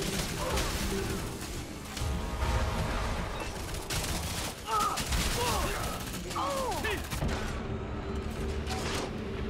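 Dense, rapid gunfire and blasts from the shooter game Lawbreakers during a match, loud and continuous with overlapping shots, mechanical clatter and occasional chirping effects, with brief voice callouts mixed in.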